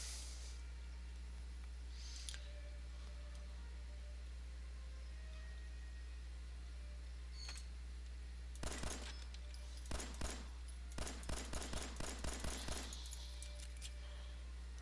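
Pistol shots at a shooting range, faint distant reports in quick uneven clusters, a pair first and then a rapid string of cracks over a steady low hum.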